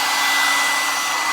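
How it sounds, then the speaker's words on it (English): A hair dryer switched to its hot setting blows a steady, loud, close whoosh of air throughout, with a constant motor whine and no talking. "let the dryer run a minute because I want it to be as hot as possible"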